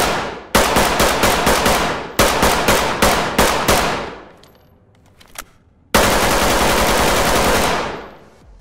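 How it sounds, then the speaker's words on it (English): G36C rifle firing in the video game Ready or Not: loud close bursts of rapid automatic shots, a short pause with faint clatter, then a final sustained burst, with no talk. "Try out the two new weapons, the G36C."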